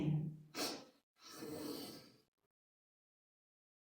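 Slow, audible inhales and exhales of a yoga breathing exercise, close and soft. Two breath sounds are separated by a short pause and followed by silence.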